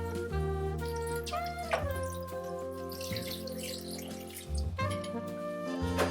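Water pours steadily into a container of sea moss nearby, a continuous trickling stream with a low background hum and no talking.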